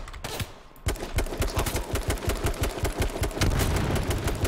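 Rapid automatic gunfire in the H1Z1 video game, a dense run of sharp repeated shots close by, continuing steadily throughout without a pause.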